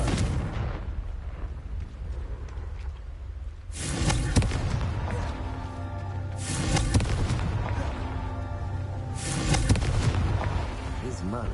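Blasting-spell explosions from the video game Hogwarts Legacy: three loud, booming bursts with rumbling tails, one after another over a bed of game sound and low background.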